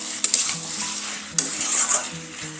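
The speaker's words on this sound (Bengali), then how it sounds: "কিছুক্ষণ সময় নিয়ে এরকম কষিয়ে নেব যতক্ষণ না মশলা থেকে তেল ছেড়ে আসছে" Spice masala for chicken frying in oil while a metal spoon stirs and scrapes the pan, giving a close hiss with a few sharp clinks and a scraping rhythm throughout.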